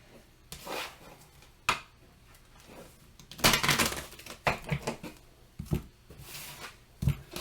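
Tarot cards shuffled by hand, soft irregular rustling and snapping bursts of cards sliding together, close and fairly quiet, with no talk.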